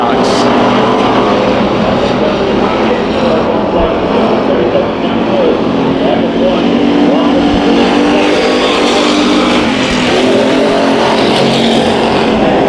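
Hobby stock race cars roar around the Bakersfield Speedway dirt oval in a heat race, a loud, dense, unbroken wall of engine noise from many cars at once, with a commentator's voice faintly underneath.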